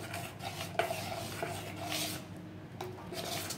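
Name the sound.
stirring idli batter with salt in a bowl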